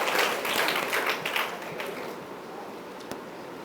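A group of children and guests at a celebration in a children's home claps together, the applause strongest at the start and then thinning out and fading over a few seconds.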